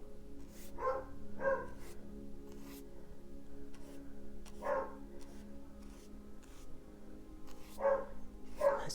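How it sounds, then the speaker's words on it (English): A neighbor's dog barks from a distance in short bursts, a couple of yaps early, another single bark midway and a pair near the end, faint over a low steady background hum. "Our neighbor dog is talking about something."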